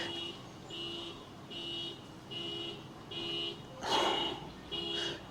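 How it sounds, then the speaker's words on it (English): Car alarms going off outdoors, a repeating electronic tone pulsing in regular bursts about once per second at moderate distance, with a brief louder noisy burst partway through. "How am I outside making a video and there's car alarms going off?"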